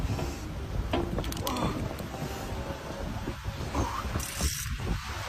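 A fishing reel is cranked hard to land a big sea fish at sea, a steady mechanical ratcheting churn under wind noise and faint excited voices.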